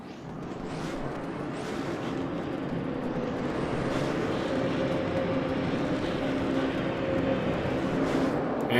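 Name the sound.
race cars starting a race in a racing video game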